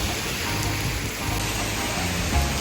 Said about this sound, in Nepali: यस्तो खतरा पानी बढेर रहेछ